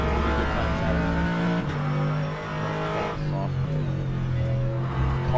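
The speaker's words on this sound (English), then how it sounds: "Cars are really loud." GT3 race car engines at Monza in rFactor 2, a loud steady drone heard from inside the car, with the pitch stepping up and down through gear changes and no talking.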